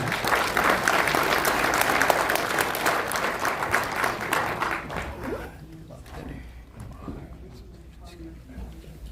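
An audience applauds to welcome a speaker at a lecture, with loud, sustained clapping for about five seconds that then tapers off as quieter room sounds and a voice follow.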